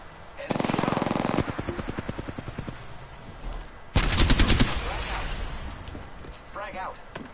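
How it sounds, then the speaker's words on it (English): Automatic gunfire in Apex Legends rattles out in two loud, rapid bursts, the first over about a second and the second shorter and harsher, with a voice talking between and after them. "I am taking fire, friends. Opening fire on the enemy."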